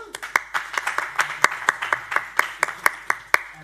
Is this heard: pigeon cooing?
no